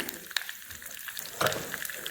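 Fenugreek seeds and curry leaves sizzle in hot tempering oil for kadhi pakode, a soft steady crackle with a brief louder burst of spitting near the end, close and without talk.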